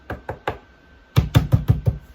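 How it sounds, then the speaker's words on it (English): Heavy knocking on a door, like a police knock: three lighter raps, a short pause, then five loud, evenly spaced pounding blows close by. "that's the police knock"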